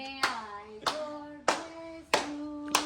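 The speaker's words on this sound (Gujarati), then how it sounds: "તાળી તો પાડો, તાળી પાડો." Five evenly spaced handclaps ring out about every half second at a birthday celebration, each a sharp snap over a faint sustained tone in the background.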